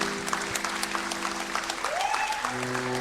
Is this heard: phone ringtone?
no